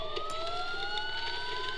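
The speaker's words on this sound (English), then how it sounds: "Sirens. The police." Police sirens wail in the Batman: Return to Arkham Asylum video game, a steady two-tone rising whine at moderate distance with no speech over it.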